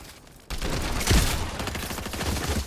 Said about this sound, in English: Fucking hate the one shot shotguns.